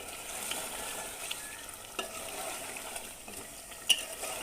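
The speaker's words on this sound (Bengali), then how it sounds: "মাংস কষা করছি।" Meat being sautéed in a pan for a Bengali kosha curry, a continuous soft sizzle with stirring scrapes and a brief utensil clink near the end, fairly quiet and with no talk.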